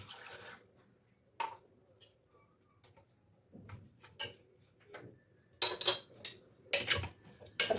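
Onion, tomato, water and lamb are stirred in a metal cooking pot, with scattered clinks and scrapes that come in bursts and grow louder toward the end, with quiet gaps between them.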